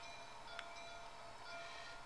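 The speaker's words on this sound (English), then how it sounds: "The Steel Express is about to leave." A train departing a Japanese Shinkansen station, heard as a faint, distant, continuous rail rumble and hiss with a soft high tone, steady and without speech.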